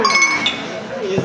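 Glasses clink together in a toast at a farewell celebration in a hotel in Ethiopia, a bright ringing clink heard close and loud under lively overlapping voices.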